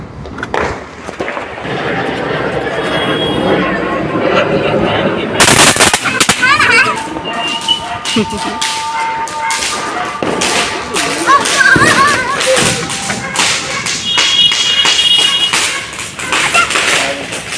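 Diwali firecrackers burst on a rooftop repeatedly in sharp, loud cracks and rapid crackling volleys, one big bang near the middle, with voices talking underneath.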